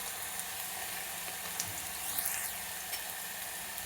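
A paste of ginger and coriander roasts in a pan for an aubergine curry, giving a soft steady sizzle with a few light clicks, faint and even, with no talking.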